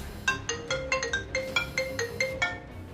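A mobile phone ringtone for an incoming call, a quick repeating pattern of bright electronic notes in a steady rhythm, close and clear over faint background noise, with no talk.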